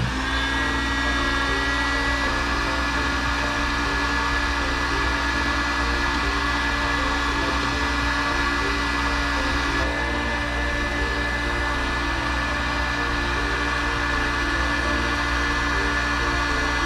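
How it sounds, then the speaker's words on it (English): Heat gun blowing a steady, loud whoosh over a plastic panel on a 1947 Ford pickup cab under construction, a continuous fan-driven hiss with a faint motor hum that runs unbroken for the whole stretch. "Maybe do a little bit of spot tuning with the heat gun."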